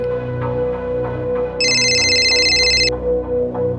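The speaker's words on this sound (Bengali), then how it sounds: "পুনে থেকে ফোন এসেছে" A telephone rings with an electronic tone for an incoming call from Pune, one bright ringing burst over a steady musical background.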